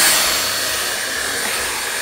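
A vacuum cleaner runs close and loud with a steady, unbroken roar, indoors while a Bernese Mountain Dog puppy is being vacuumed, and nobody speaks over it.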